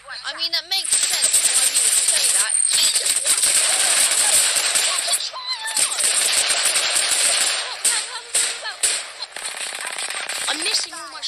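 Gunfire in the battle royale shooter Apex Legends, dense rapid automatic bursts loud throughout with short pauses, while a player talks over the shooting.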